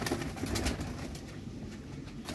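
Soft pigeon cooing, low and murmuring, against a steady noisy background with faint scattered chirps.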